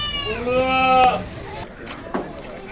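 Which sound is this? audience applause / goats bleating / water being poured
goats bleating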